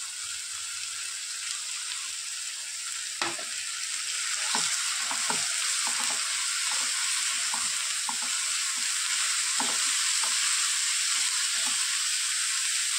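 Soaked moong dal fries in a pan with Cassia tora leaves, a dense steady hiss rising slightly after the addition, punctuated by soft stirring knocks and scrapes.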